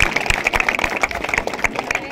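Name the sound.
audience clapping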